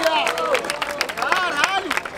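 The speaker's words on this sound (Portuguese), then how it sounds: "Palmas pra essa batalha, família." Crowd at a rap battle in Barueri, São Paulo, briefly clapping and cheering, a loud burst of applause mixed with shouts and whoops.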